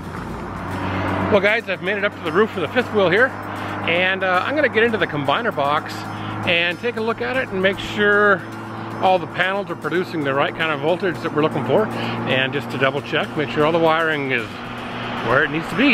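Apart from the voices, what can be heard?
road traffic noise from nearby highway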